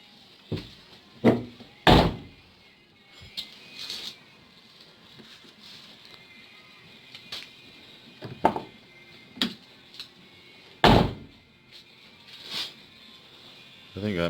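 Door of a Chevy S10 Blazer slamming shut several times after a hinge pin repair using bolts, sharp near thuds spaced through the stretch with quiet workshop background in between.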